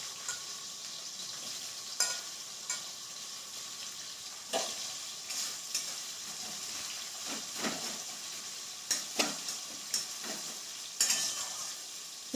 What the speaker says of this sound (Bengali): তাই শুকনো লঙ্কা আর জিরে ফোড়ন দিয়েছি। পেঁয়াজ দিয়ে দেবো।